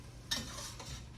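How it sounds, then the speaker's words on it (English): Peppers and onions sauté in a pan, making a faint, soft sizzle with a few light stirring scrapes and a small clink of a utensil. "I'm sauteing my peppers and my onions."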